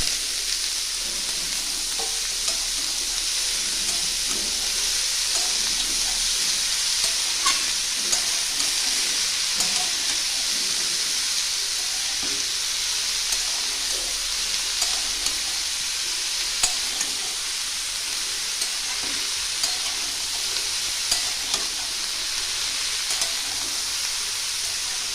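Snake gourd frying in a pan with oil, a steady bright sizzle and hiss running throughout with occasional stirring scrapes, close and continuous with no talk.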